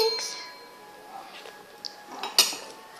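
A utensil stirs grape juice in a pot, giving a few light metallic clinks and scrapes against the pot, close but sparse, with a voice speaking over them.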